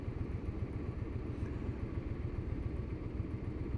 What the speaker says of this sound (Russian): катаясь по Токио на мотоцикле